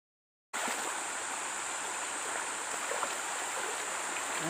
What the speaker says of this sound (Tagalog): Dadaan muna tayo dito sa sapa na to. Tatawid tayo.